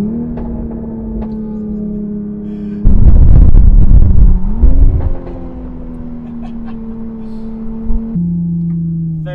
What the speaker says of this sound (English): So we're in third, and I'm gonna downshift. Third gear, back down to second.